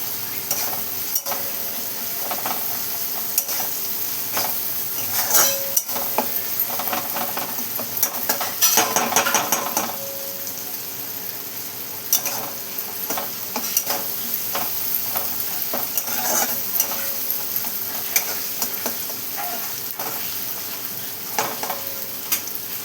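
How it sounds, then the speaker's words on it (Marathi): A spoon stirs a mixed cauliflower, cabbage and potato curry with turmeric in a pan. Irregular scraping stirs and clatters sound over a low, continuous sizzle. "त्याच्यानंतर छान असं मस्त मिक्स करून घेतले बघा."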